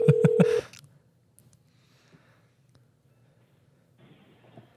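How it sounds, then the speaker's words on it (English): A telephone dials out with a quick run of about four loud touch-tone beeps in the first half-second, then near silence with faint rustles and a soft murmur at the end. "let's give Mr. Coyote a phone call"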